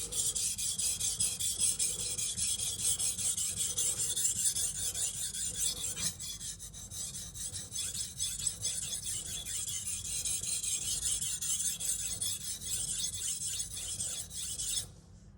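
A knife is sharpened on a Shapton Glass whetstone, a steady raspy scraping that is close and continuous, with strokes blurring into a constant hiss and no talk.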